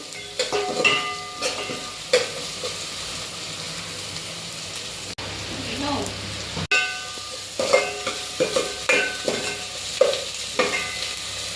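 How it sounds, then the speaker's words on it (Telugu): Crushed paste frying in a pan for curry is stirred with a spoon, irregular scraping strokes over a steady sizzle, close and moderately loud, with occasional clinks of utensil on the pan. "ఈ కచ్చపచ్చ దంచుకున్న పేస్ట్ వేసుకొని పచ్చివాసన పోయేంత వరకు కలుపుకుంటే చాలు"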